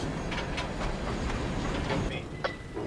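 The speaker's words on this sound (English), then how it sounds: "We're getting this train today because it's a stranger on this route, but I try to shoot every coal train" Coal train rolling along a rural railroad line, a steady rumbling clatter with rhythmic wheel clicks over the rails, heard at moderate distance with no talking.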